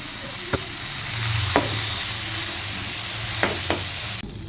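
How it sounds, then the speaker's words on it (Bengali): Bottle gourd for a prawn curry being stirred and fried in a pan: a continuous loud sizzle with several distinct knocks of the spoon against the pan. "লাউগুলো দেখুন সামান্য হালকা করে আমি নেড়ে নিয়েছি।"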